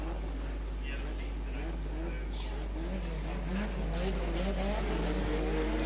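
Stock cars at a regional race lap a circuit, engines droning and revving at a distance beneath a steady low hum while a commentator talks over them.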